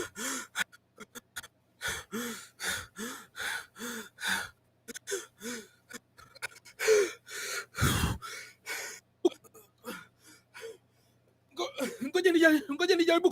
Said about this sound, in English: I think I'm just going to grab some of the breathing.